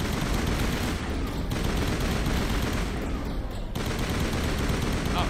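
Dense, continuous gunfire from the PS5 game Mass Effect, loud rapid bursts running almost without pause and filling the whole span, with brief dips between volleys.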